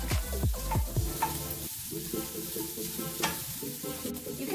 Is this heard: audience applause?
no